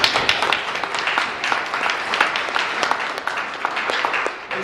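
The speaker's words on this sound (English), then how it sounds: "So a big round of applause for all the club facilitators too." An audience at a school event gives a loud, sustained round of applause for club facilitators, dense overlapping claps filling the room for several seconds without pause.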